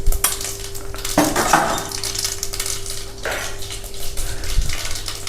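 Mustard seeds and cumin hit hot oil in a pan while bitter gourd fry is prepared, giving faint sizzling crackle mixed with clinking of utensils against cookware, a few sharper clatters standing out, no talking.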